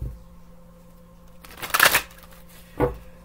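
A brief riffle of playing cards being shuffled, followed by a second shorter snap, against a quiet steady hum with no talking.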